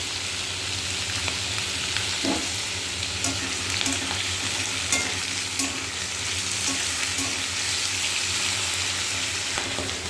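Salted food fries in a pan with a continuous, close sizzle, broken by occasional light clicks and scrapes of stirring, and no talking.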